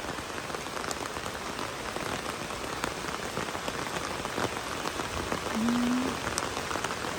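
Steady rain falling on a surface, a dense continuous patter with scattered louder drops, no voices.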